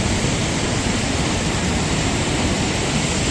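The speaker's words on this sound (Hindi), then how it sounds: "इस पानी का बहाव ये देखो कितना तेज़ बहाव है इस पानी का" Fast-flowing mountain water rushes under a bridge on the Sach Pass road, a loud, steady, broadband roar with no breaks, close by and filling the whole moment without any talk.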